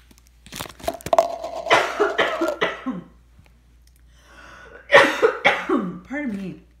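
Someone coughs with a few sharp, hacking bursts, then clears their throat, while a voice talks nearby between and after the coughs.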